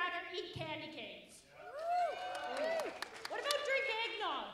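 A Christmas event audience cheers and claps, with many voices whooping and shouting together over scattered applause, loud and close throughout.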